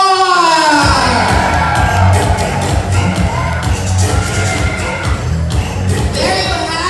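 Wedding reception guests cheer and shout together in a loud, sustained crowd roar with whoops and yells, filling the room at close range.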